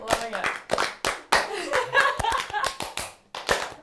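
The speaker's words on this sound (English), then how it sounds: "I never saw anybody clap like you did." An audience claps at a live band interview, with sharp irregular bursts of handclaps broken by short pauses, close and fairly loud, with faint voices mixed in.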